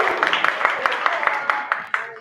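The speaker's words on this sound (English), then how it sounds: "Come on up, big round of applause." Lively close clapping for a contestant coming up during a noontime show, with distinct sharp claps over a steady crowd applause and some voices mixed in.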